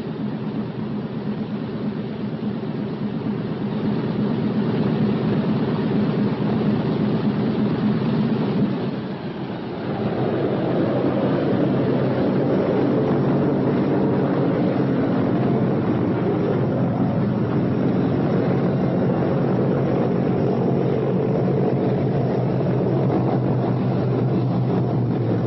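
Four radial piston engines of a B-17 bomber revving up on the ground, a loud, steady, dense drone with a brief dip near the middle before the roar builds again and holds, with no voices.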